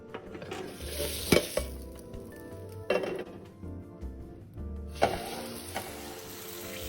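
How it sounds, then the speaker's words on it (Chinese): A seaweed and crab stick omelette sizzles steadily in a pan on low heat, with spatula scrapes and clinks as it is flipped, loud and close, without talk. "翻面后再煎另一面。"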